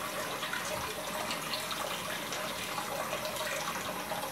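A kitchen faucet pours a continuous stream of water, a dense, steady splashing rush heard close and unbroken, with no voices over it.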